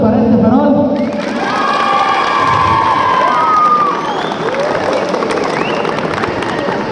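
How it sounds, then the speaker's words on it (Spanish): Crowd cheering and shouting with children's voices for a lantern at an Independence Day Grito festival in San Bernardo Mixtepec, loud and sustained for several seconds, with light clapping mixed into the noisy outdoor din. "el aplauso para este farol"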